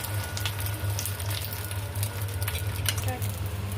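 Beaten egg seasoned with salt and black pepper fries on a hot griddle. A soft steady sizzle and crackle runs throughout under a low background hum, with a couple of faint clicks.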